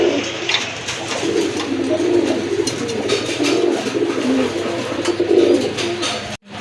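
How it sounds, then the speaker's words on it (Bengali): A healthy, active pigeon coos loudly and close by in a continuous rolling murmur, with faint chirps from other birds behind it. "এটা বোঝা যায় যে সুস্থ আর অ্যাক্টিভ আছে কবুতরটা, কারণ অসুস্থ কবুতর এরকম ভাবে কখনোই ডাকে না।"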